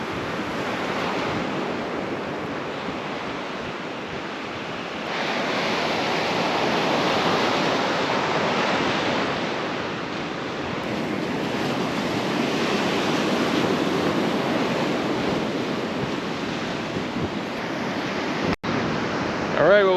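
Ocean surf washes steadily onto a beach near Kennedy Space Center, with wind buffeting the microphone. The wash swells louder partway through, and no one speaks.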